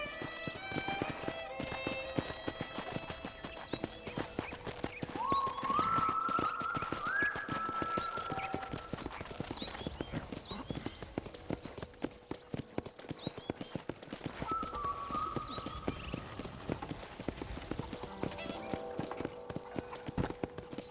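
Steady clip-clop of horse hooves at a walking rhythm in the video game Red Dead Redemption, with occasional whinnies and tonal game-style sounds over it, no talking.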